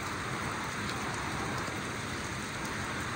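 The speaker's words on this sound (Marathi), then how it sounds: "एकदम जोरदार पाऊस झालेला आहे, पूर्णपणे पाऊस फुल एकदम।" Heavy monsoon rain pours down steadily, a dense, even hiss of drops on surfaces that continues unbroken at a moderate, close-up level.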